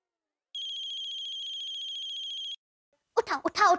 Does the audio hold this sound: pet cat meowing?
no